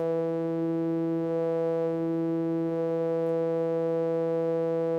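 A synthesized tone from Pure Data passes through an oscillating low-pass filter, a steady, rich harmonic drone that holds fairly evenly for five seconds, quiet and alone.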